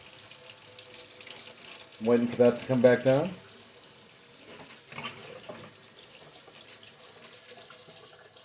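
Tap water pours into a kitchen sink being used to thaw rock-solid frozen bluegill, a splashing gush of about a second. Quieter running and a man's speech follow.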